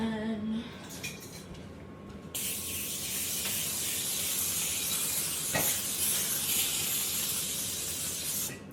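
Cooking spray hisses steadily from a can onto a slightly dirty baking tray in a home kitchen while fall-themed cookies are being baked, a continuous close spray lasting several seconds after a few light clinks.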